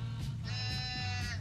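A single drawn-out goat bleat in a video game, nasal and wavering, close and loud over a low steady background hum.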